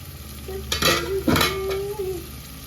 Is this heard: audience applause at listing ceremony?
no